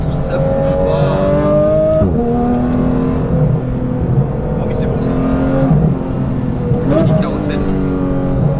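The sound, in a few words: Porsche GT3 with HRE exhaust accelerating on track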